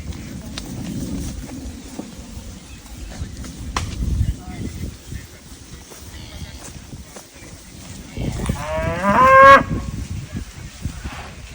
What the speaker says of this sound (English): So this is the cow we gave to winners.